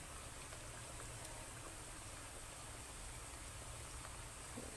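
Onion crackers (kerepek bawang) fry in hot oil, giving a faint, steady, dense sizzle and fine crackle that carries on evenly without pauses or talk.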